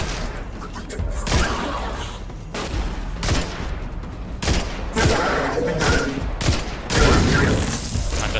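Video game gunfire from Destiny 2 comes in repeated loud bursts of shots with short gaps between them, close and sharp, over a busy game soundscape.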